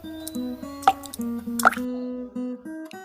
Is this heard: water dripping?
yes